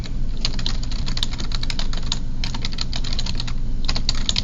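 Fast, continuous clicking of keys on a computer keyboard, close and distinct over a steady low electrical hum, with no talk.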